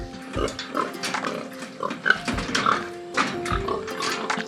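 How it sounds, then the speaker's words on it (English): Racing pigs at Stuckey Farm grunt and oink repeatedly at close range, with snuffling and shuffling between the calls and farm background noise underneath. "The racing pigs of Stuckey Farm."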